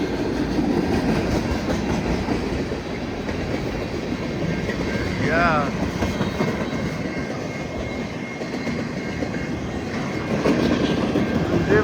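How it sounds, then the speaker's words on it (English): A CN freight train rolls past a railway crossing at milepost 30.29, a steady loud rumble of wheels and cars throughout, with a brief squeal midway and a person speaking a single word. "I had a feeling a train was coming by."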